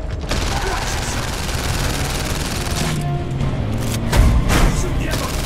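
Gunfire from a PlayStation VR shooting game, a dense, continuous barrage of shots and booms running throughout, loud and steady, with a heavier thump toward the end and excited voices shouting over it.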